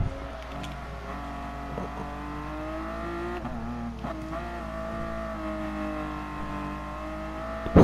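A race car engine in Gran Turismo Sport holds a steady, loud drone with shifting harmonic pitch as it revs and pulls through gears, continuous for the whole stretch with no talking.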